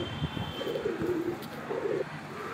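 Lahore Matraj pigeon cooing in two clear rounded bursts, the second shorter, close by against steady background hiss with a faint high tone.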